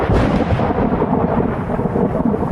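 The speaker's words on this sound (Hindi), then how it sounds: "तेज हवाओं और गरज चमक के साथ बारिश हुई" A thunderstorm with heavy rain in northeastern Punjab, Gilgit-Baltistan and Kashmir, a loud continuous rumble of thunder over steady rain, close and unbroken for a couple of seconds.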